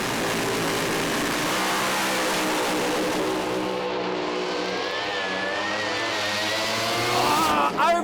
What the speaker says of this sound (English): Final of Pro Alcohol, beyond midnight at Willowbank Raceway, revs up, bumping into stage